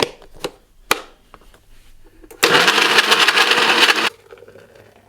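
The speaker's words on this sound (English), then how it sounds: "Onto the blender." A kitchen blender roars loudly for nearly two seconds while crushing five ice cubes into a drink, after a few scattered clicks and taps in an otherwise quiet room.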